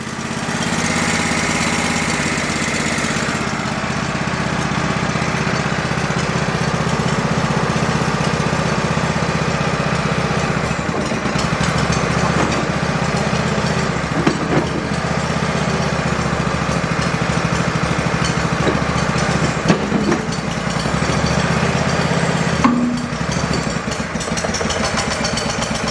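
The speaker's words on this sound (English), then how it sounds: "Definitely hear the load is on the engine, but it's running on 2 cylinders." An old Go-For digger engine bought at an estate sale, running under load on only two of its cylinders, a loud, steady, uneven chug with brief knocks and dips as levers are worked.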